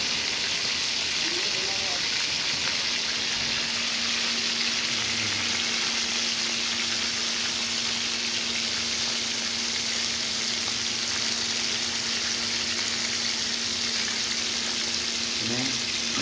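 Fish sizzles steadily in a frying pan, a constant crackling hiss running throughout with faint background hum and brief low voices.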